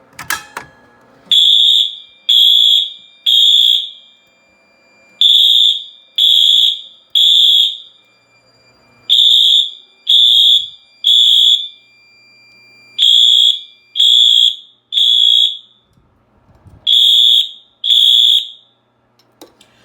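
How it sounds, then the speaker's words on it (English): A pulled fire alarm on a system test sounds in loud, regular bursts of three high electronic tones, each group separated by a short pause, repeating without speech. "we will pull a fire alarm"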